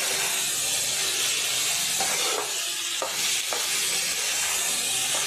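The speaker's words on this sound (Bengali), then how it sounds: "আঁচটা কমিয়ে কমিয়ে মশলার সঙ্গে আলুগুলো আমি ভেজে নেব" Potatoes frying with spices and ginger-garlic paste in a pan over lowered heat, a continuous close sizzle with occasional stirring scrapes and clacks, no talking.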